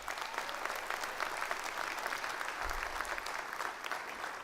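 Dense, steady applause from a crowd at a Five Towns College commencement ceremony, sustained clapping held at an even level throughout, heard at a moderate distance.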